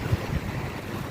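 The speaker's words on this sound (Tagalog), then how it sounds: "hindi lang malamig, malakas pa yung hangin" Strong, cold wind blows outdoors on a street near a supermarket in Greece, giving a steady low rumble and buffeting against the microphone for a short moment.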